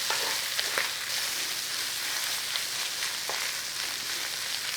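Onions, garlic, ginger and cabbage fry in a pan with a loud, continuous close-up sizzle and faint stirring scrapes, with no talking.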